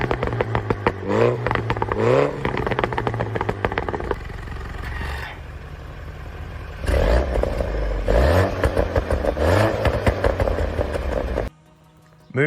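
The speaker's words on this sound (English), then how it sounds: "the Bosworks valve exhaust that sounds like this" A John Cooper Works car engine revs hard through a loud Bosworks valve exhaust, rising and falling in repeated bursts with a deep throaty roar, then cuts briefly before restarting.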